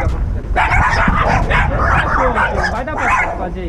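Several dogs inside an apartment building bark loudly and repeatedly, their overlapping yips and barks close by, with a few whimpers mixed into the chorus.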